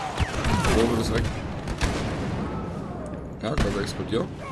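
Explosions and blaster fire from a Star Wars Battlefront match, dense and loud bursts with a sharp blast near the start and another around the end, under excited German gamer commentary.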